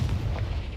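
A Confringo blasting spell cast in Hogwarts Legacy lands as a single heavy, close boom with a deep rumbling body that holds, then fades slightly over a brief moment.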